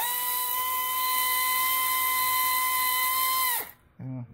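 A cordless power drill whines at a steady high pitch while working on an oil pan and gasket job on a 2000 Honda CR-V, then spins down abruptly and gives a short burst.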